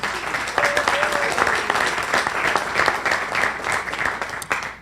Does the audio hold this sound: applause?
yes